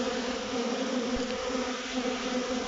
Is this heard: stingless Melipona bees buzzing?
yes